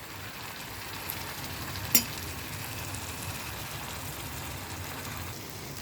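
Chicken roast with butter and thick gravy cooking down in a frying pan, giving a soft, steady sizzle throughout with one sharp metallic clink partway through.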